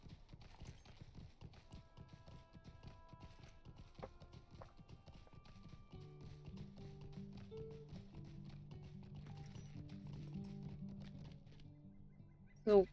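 Steady clip-clop of horse hooves at a brisk pace while riding in the video game Lord of the Rings Online, with soft game music tones joining partway through and a brief bright chime at the end.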